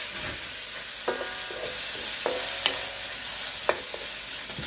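Cooked lo mein noodles being sautéed in a pan, giving a steady, close sizzle with scattered clinks and scrapes of stirring, no talking.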